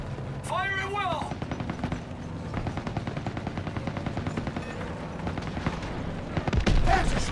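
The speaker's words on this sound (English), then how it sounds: "Small arms fire! They're assaulting our guys!" Small arms gunfire in the Call of Duty: WWII campaign, a dense battle with rapid rifle and machine-gun bursts crackling continuously, a louder burst near the end, and shouted voices heard under the shooting.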